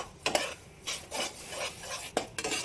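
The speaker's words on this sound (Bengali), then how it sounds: "নারকেলের সঙ্গে গুড়টা নাড়তে নাড়তে মেল্ট হয়ে যাবে" Grated coconut stirred with melting jaggery in a pan, heard as a few scraping, rubbing strokes of a spoon across the pan surface, close and fairly soft with brief sharp knocks.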